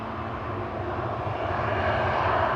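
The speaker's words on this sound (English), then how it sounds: "A triplet of airplanes coming this way." A jet airliner at Amsterdam Schiphol Airport roars in a steady, broad rumble that builds slightly as it approaches, loud and continuous with no voices.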